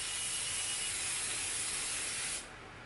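Spray paint can spraying a toaster and kettle: a steady, close hiss held for over two seconds, then cutting off abruptly to quiet.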